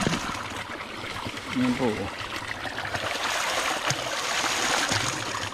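Water flows out of a catfish pond outlet in a steady rushing trickle, with someone speaking Filipino over it.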